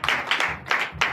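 A church congregation claps in bursts during a Sunday worship service in Comè, Benin, with four rough waves of hand-clapping close by and no voices over them.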